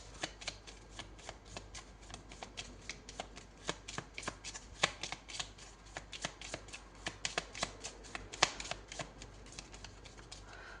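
Oracle cards shuffled and laid out in a quiet room, a steady stream of crisp riffling snaps and slaps running throughout for about eleven seconds, close and fairly loud with no talk.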